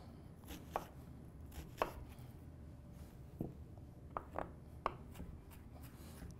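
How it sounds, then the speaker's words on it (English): Onions get a rough chop with a knife on a cutting board for salsa, a few scattered, irregular thuds that are quiet and close, with no one speaking. "Give those a rough chop."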